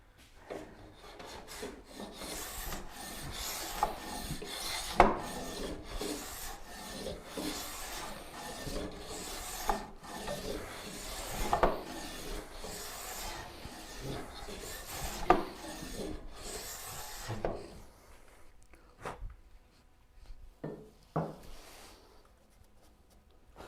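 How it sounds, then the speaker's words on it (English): A paring chisel shaves and rubs against a wooden chair part in steady, repeated strokes, a close dry scraping texture with occasional knocks, thinning out toward the end. "the rest of it can be done with a paring chisel"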